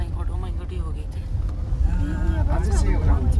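A car engine hums and rumbles low and steady from inside the moving vehicle, growing slightly louder, while people talk over it.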